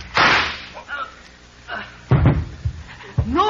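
A pistol shot in an old radio detective drama gives a sharp, close crack, then a second heavy impact follows a couple of seconds later among brief voices.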